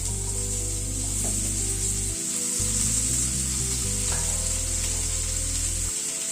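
Chopped vegetables hit hot oil tempered with fenugreek seeds, giving a steady loud sizzle and frying hiss with occasional rubbing and stirring scrapes, no voices.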